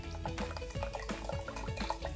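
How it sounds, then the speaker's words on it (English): A fizzy drink dribbles slowly out of a squeezed, busted can, a quiet, uneven run of drips and small splashes close by, with no talking. "But it's come out, it's just slow and it's kind of fizzy this way."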